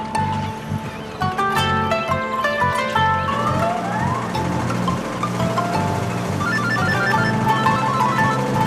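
A loud electronic ringtone plays continuously over a busy, noisy background, repeating its melodic pattern for several seconds with no one answering.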